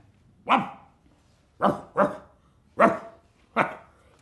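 A performer on a theatre stage imitates a dog with five short, loud barks, one single then a quick double, then two more spaced apart, with silence between them.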